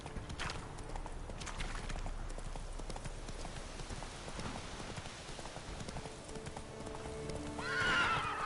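Horse galloping in a PS5 video game, a steady clip-clop of hooves running throughout that ends with a loud whinny near the close, with faint patter underneath.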